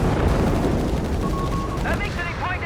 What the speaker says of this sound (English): Anti-tankers there being hit here by artillery fire.